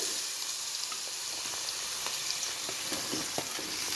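Ginger garlic paste fries in hot oil in a pan for a beef curry, a dense, even sizzle close by with a few faint clicks of a spoon, and no one talking.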